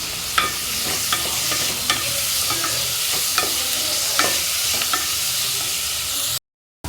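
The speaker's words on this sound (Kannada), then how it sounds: "ಇವಾಗ ಒಂದು 5 ರಿಂದ 6 ಹಸಿಮೆಣಸನ್ನು ಹಾಕ್ತಾ ಇದ್ದೀನಿ" Five or six green chilies sizzle in a hot pan for a restaurant-style chicken liver fry, with steady frying hiss and a spatula stirring and scraping in regular strokes, close and clear.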